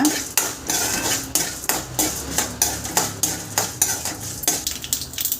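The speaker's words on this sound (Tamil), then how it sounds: "கடலையும் சேர்த்து இதில் வந்து நீங்கள் வறுத்துக்கோங்க" A spoon scrapes and clinks at a steady, rhythmic pace as peanuts and urad dal roast and get stirred in a pan for mango rice. A light sizzle runs underneath.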